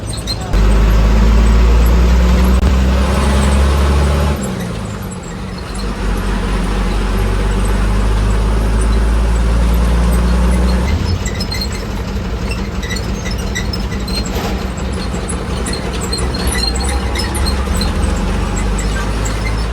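Riding an ST state transport bus on the rural route from Chandgad to Sundi, the engine drones steadily and loudly inside the cabin, with road rumble dipping briefly then resuming.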